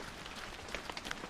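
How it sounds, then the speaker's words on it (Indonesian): Heavy rain falls as a steady, dense hiss with scattered droplet patters, fairly faint and continuous with no voices. "hujan deras seketika turun"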